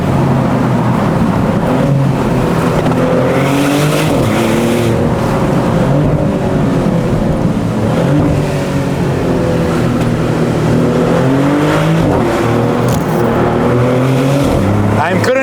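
A high-revving Maserati GranTurismo engine roars loudly and continuously in Corsa mode, pitch climbing and dropping as gears change while it drives fast.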